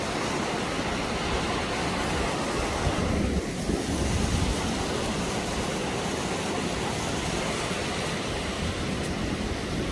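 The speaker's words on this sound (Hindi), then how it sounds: "ये देखिए, ये अलखनंदा नदी को" Alaknanda river rushing past at Badrinath, a loud, continuous roar of fast water with wind noise on the microphone, unbroken throughout.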